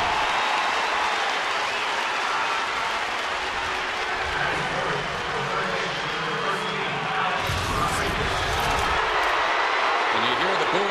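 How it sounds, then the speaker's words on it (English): Baseball crowd in a Texas ballpark booing Alex Rodriguez as he steps in to bat for New York, a dense sustained roar of thousands of voices filling the whole stretch, with a commentator talking faintly over it. "you hear the booing for Alex Rodriguez as he steps in"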